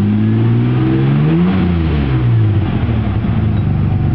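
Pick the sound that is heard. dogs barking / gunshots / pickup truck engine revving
pickup truck engine revving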